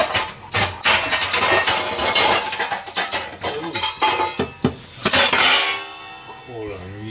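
Dishes and a pie plate clatter and clink in a home kitchen while pineapple is readied for baking, a dense run of close, sharp knocks and scrapes with a brief ringing clink near the end.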